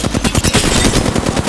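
Rapid automatic gunfire in an Apex Legends match during a third-party fight, loud and continuous bursts of shots with no talk over them.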